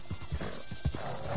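A tired horse in the video game Red Dead Redemption 2 trots along with steady, rhythmic hoof clip-clops, close and moderately loud, with no talk over it.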